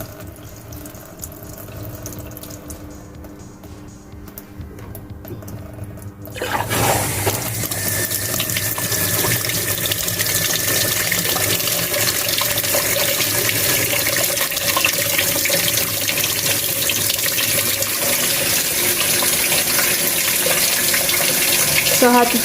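Water rushes into a MAXZEN 7.0 kg fully automatic washing machine. A quiet hum suddenly gives way to a loud, steady hiss and splash of filling water that continues unbroken to the end.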